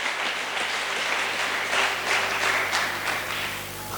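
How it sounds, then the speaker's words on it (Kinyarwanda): A church congregation applauds steadily, a dense wash of clapping that holds for several seconds, then a sharp knock right at the end. "Dukomere ijambo ry'Imana amashyi menshi."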